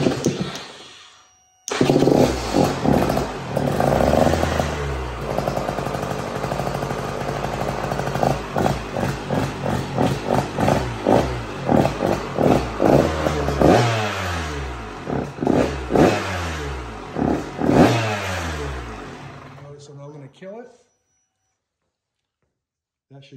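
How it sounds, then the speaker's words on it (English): A 2023 KTM 125/250/300 SX two-stroke TBI dirt bike engine starts after a brief pause, then runs close and loud with repeated sharp revs and throttle blips before cutting off into silence. "I'm just gonna simply fire up the bike for a second and make sure it's okay"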